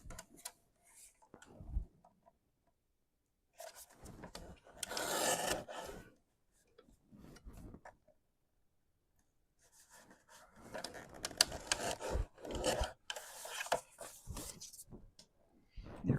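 A trimmer cutting off a piece of plastic while finishing a craft piece, heard as several close, dry bursts of rasping, scratchy cutting separated by quiet gaps, the longest stretch near the end, with no talk.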